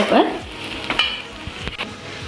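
Rice sizzling and scraping in a hot pan as it is stir-fried, with a few sharp clinks of a utensil against metal as it is stirred.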